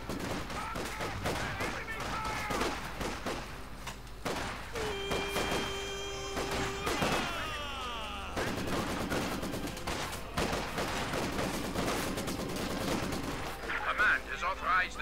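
Battlefield gunfire in the video game Company of Heroes 2, with bursts of machine gun fire, scattered rifle shots and heavy thumps of explosions going on throughout, mixed with game effects and voices.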